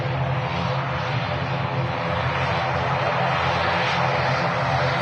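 Airliner at Manchester Airport roaring loud and steady, engine drone constant throughout with no talking.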